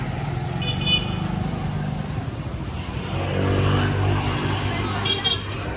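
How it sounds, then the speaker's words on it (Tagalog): Motorized tricycle engine rumbles in busy street traffic in El Nido, with a couple of short horn toots near the start and end, while people talk over the steady road noise. "Tricycle."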